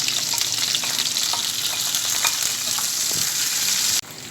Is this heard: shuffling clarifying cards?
no